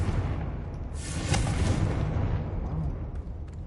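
An explosion from the Confringo fire spell in a Harry Potter video game booms over a loud rumbling background, with a sharp burst near the middle that fades into a lingering roar.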